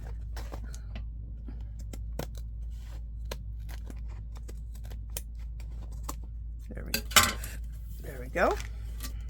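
Scissors snip through paper and lace edges on a shabby chic junk journal envelope, giving a string of short, close, quiet cuts and rustles with a few sharper clicks, while a person speaks briefly near the end.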